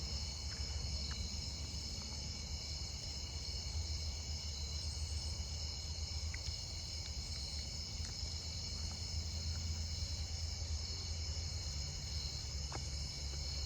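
Pine tree crickets trill steadily in a continuous high-pitched chorus at night in a neighbourhood, faint and constant, with no voices and only occasional tiny clicks.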